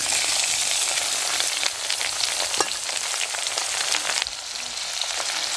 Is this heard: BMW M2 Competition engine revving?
no